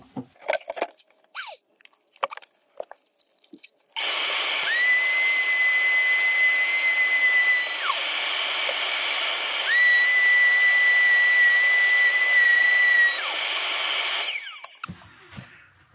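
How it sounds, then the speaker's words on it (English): A hand sander run over a slate inlay on a woodturning piece whines loudly and steadily in two long bursts with a short dip between, preceded by scattered faint knocks and handling noises. "I'm going to use a hand sander and just hold it over this area and just see what happens."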